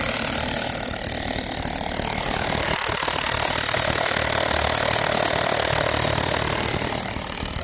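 Continuous loud power-tool whine and grinding as a large bit bores a big hole, holding a constant drone throughout.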